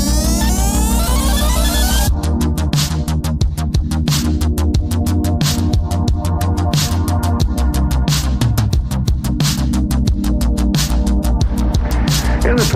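Computer-synthesized tone generated from a spectrum drawn with a light pen, a loud, dense electronic texture with a steady low drone and rapid regular percussive pulses throughout.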